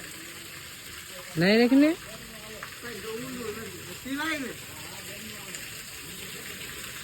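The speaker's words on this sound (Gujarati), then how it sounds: "ડેમનું પાણી આવે છે." Dam water flowing near the Droneshwar Mahadev temple makes a steady, even rush throughout, with short bursts of nearby talking over it.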